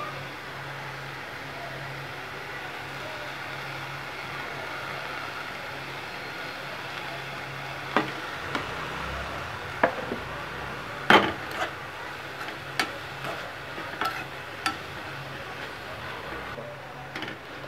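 Washed dried prawns frying in a pan and being stirred, with a low, steady sizzle and hum. About midway, a spoon begins knocking against the pan in scattered close clacks. No voices.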